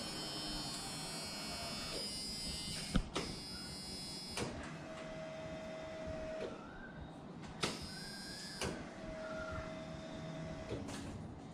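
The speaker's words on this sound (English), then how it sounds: "Prime the fuel pump a few times" An electric fuel pump in a Chevrolet C10 with an LS swap whirs in steady buzzing runs while priming, switching on and off several times with clicks between cycles, close and fairly quiet.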